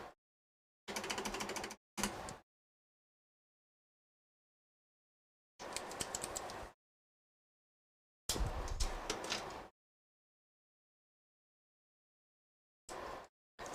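A printer that is malfunctioning runs in several separate mechanical bursts of whirring and clacking, each about a second long, with silent gaps between them.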